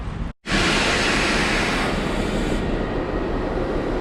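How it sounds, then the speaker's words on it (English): Ambient wash of Graz Hauptbahnhof, the main railway station in Graz, Styria, Austria: a steady, broadband rumble of trains and station noise that holds loud and even after a brief dropout near the start. "Yeah, it's a train station."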